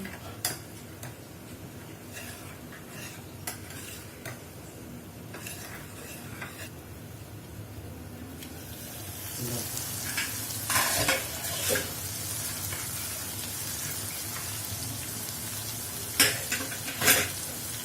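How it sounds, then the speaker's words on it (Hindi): Masala mixed with water being stirred in a pan, soft scraping and tapping at first that grows into a brighter sizzle and a few sharp clinks of spoon on pan near the end, close by and without speech. "इसमें वाटर मिक्स करेंगे। और इन मसाले को अच्छे से मिक्स कर देंगे।"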